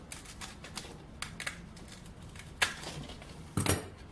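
A few sharp snips and crisp clicks of scissors cutting through a stiff sanding belt, with a louder cut near the end, close by and without speech.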